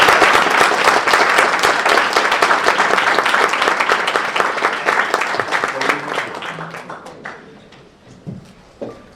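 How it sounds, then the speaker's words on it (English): A large audience breaks into sustained, dense applause welcoming the president of a historical association, loud and steady at first, then thinning and tapering off into scattered claps by the end. "join me in a round of applause to welcome our president, Dr. Eva Baham."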